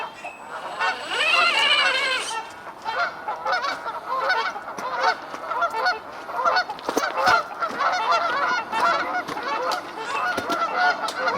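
A flock of geese honking loudly and continuously outdoors near water, their harsh overlapping calls dense and close throughout.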